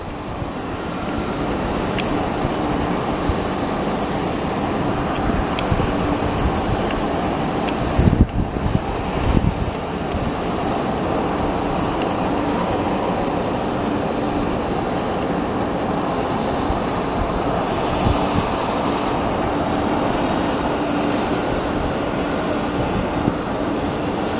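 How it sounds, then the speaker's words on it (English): A regional jet, probably an Embraer ERJ, taking off with a steady broadband engine roar that holds for the whole stretch at moderate loudness, plus a brief louder burst partway through. "As the CRJ, ERJ, probably an ERJ, takes off."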